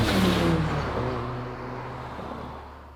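Ford Sierra Cosworth with 485 hp driving its rear wheels, shifting up through the gears, its engine note loud and close at first and then fading steadily as it pulls away.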